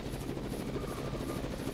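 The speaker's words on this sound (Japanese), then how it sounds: "ヘリに乗って" Helicopter in the video game Zettai Zetsumei Toshi 2, a steady low rotor drone with a continuous engine hum, fairly quiet and unchanging throughout.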